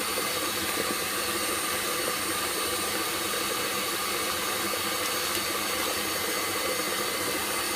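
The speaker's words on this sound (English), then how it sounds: "I'm gonna let it keep mixing." An electric stand mixer running on high whips Swiss meringue buttercream with added shortening, a steady whirring hiss that holds unchanged throughout with no talk.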